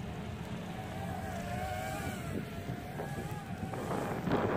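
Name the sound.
wind blowing while flying a JJRC H345 drone in snow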